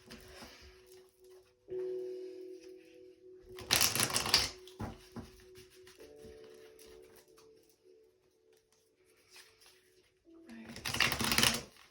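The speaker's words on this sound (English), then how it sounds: "I'm gonna shuffle this a couple more times." Tarot cards are shuffled in two brisk, crackling riffles several seconds apart, close by, with quieter handling and a faint voice in between.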